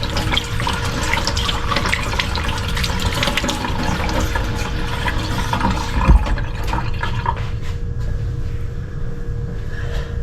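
A kitchen tap runs steadily while hands are washed, a close and constant splashing hiss that lasts the whole stretch, with a single small knock near the middle.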